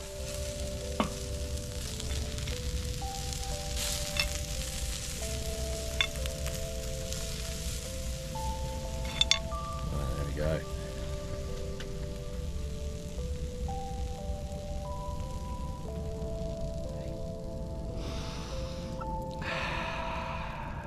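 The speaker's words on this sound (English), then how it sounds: "let's show you the kebabs that we're cooking" Kebabs cook on a Napoleon cast iron charcoal grill, giving a steady hissing sizzle that runs throughout beneath a prominent melodic music track.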